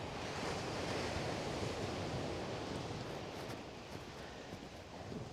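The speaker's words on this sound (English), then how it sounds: "Oh, you can really hear the waves." Ocean surf rolls onto a snowy winter beach at Coney Island, Brooklyn, a continuous broad wash of waves mixed with wind rumble, steady and moderately distant, with no talk.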